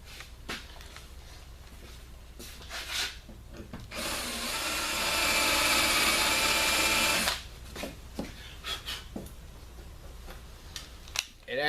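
Power drill grinding out a rivet on a Honda Talon door, a loud steady whirring lasting a few seconds, with clicks and handling noises before and after.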